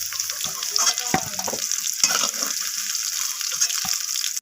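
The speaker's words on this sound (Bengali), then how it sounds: "তো এবার আমি ওই একই তেলের মধ্যে ফোড়নে দিয়ে দিলাম গোটা জিরে, দারচিনি, এলাচ, লবঙ্গ আর একটা শুকনো লঙ্কা আর দুটো তেজপাতা।" Whole cumin, cinnamon, cardamom, cloves, a dried red chilli and two bay leaves sizzle and crackle in hot oil after potatoes were fried, a steady close frying hiss with small pops and a few stirring scrapes throughout.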